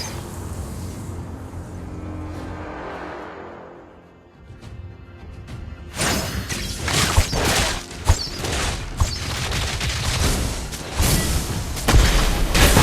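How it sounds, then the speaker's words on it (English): A turret is destroyed in Mobile Legends, heard as a loud, dense burst of booming blasts, crashes and mechanical impacts that follows a fading hum and a brief quiet. "Your team destroyed a turret."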